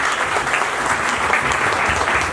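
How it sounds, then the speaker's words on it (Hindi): Loud, dense applause from a seated audience in a hall during a Chandrayaan 2 presentation, continuous even clapping close by with no voices. "मैं पूरे सदन से ये दरखास्त करूँगा कि आप इनका जोरदार तालियों से अभिवादन करें।"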